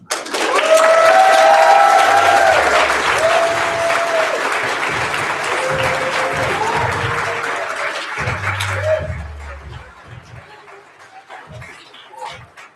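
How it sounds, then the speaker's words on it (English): A crowd at a Louder Than a Bomb Great Plains 2015 youth poetry slam bout claps loudly with whoops and shouts, the ovation thinning after about nine seconds into scattered claps and murmuring voices. "Keep those applause going in bulk"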